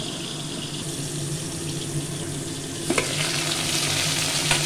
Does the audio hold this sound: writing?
no